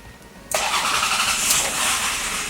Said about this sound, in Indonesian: Kita mulai dari startup engine.